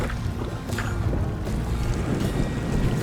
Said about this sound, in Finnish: Ikävästi tämä tuuli puskee mua päin noita rantakiviä.